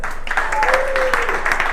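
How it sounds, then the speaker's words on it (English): A seminar audience gives a short burst of applause, brisk clapping with some vocal murmur mixed in. "I want you guys to give yourselves a round of applause real quick."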